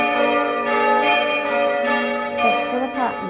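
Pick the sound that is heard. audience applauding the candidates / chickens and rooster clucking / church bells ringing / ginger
church bells ringing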